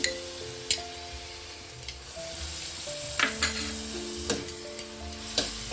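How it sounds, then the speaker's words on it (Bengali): Papaya and yogurt frying in a pan crackle with a continuous soft sizzle, punctuated by several sharp clacks and scrapes as a spoon stirs and presses the mixture, no talking. "ভালো করে আবারও কষিয়ে নেব"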